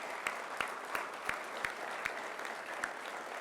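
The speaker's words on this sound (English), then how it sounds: "I think he deserves a round of applause." Applause from a press-conference audience honoring a university board chair, a steady faint wash of clapping with a few sharper claps standing out at even intervals, heard from a distance.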